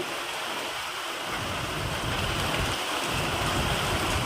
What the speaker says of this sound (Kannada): ಗುಡುಗು ಸದ್ದು ಗುಡುಗು ಮಿಂಚು ಫುಲ್ ಬರ್ತಾ ಇದೆ ನೋಡಿ